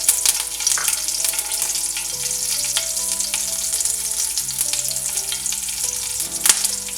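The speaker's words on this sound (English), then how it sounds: "Now we'll add curry leaves and green chilies." Curry leaves and green chilies sizzle and crackle in hot oil, a dense, steady frying hiss with sharp pops throughout, close and alone with no talk.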